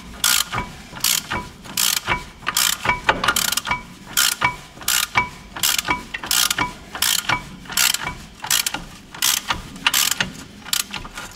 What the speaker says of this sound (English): maybe it's better to tighten it up a little bit first before we go any further